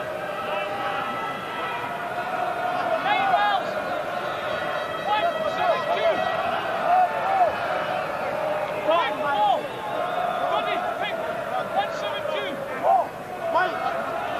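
A rugby crowd at a 1995 Rugby World Cup match between Scotland and Tonga roars in a steady wash of noise, with a commentator talking over it throughout.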